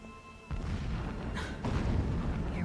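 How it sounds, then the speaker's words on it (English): Deep booming blasts in the video game Horizon Zero Dawn, a low rumbling roar that swells in two waves with sharper bursts, heard near and loud without voices. "The blasting should cover any noise you make."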